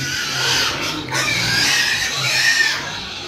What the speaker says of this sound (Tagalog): Yan mga baboy ni Yasi.